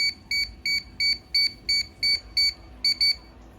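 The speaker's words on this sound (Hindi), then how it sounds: "सो ऐसे बीप होने लग जाएगा ये।" A DJI Mini 4 Pro drone in pairing mode gives out a steady series of about ten short, high electronic beeps at an even pace, the last two coming closer together, clear and close with no talking.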